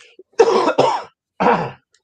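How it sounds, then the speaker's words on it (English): A person coughs three times in quick succession, close and dry. The first two are tightly paired, and a third follows after a short pause, with no talking around them. "Got an annoying cough that won't go away."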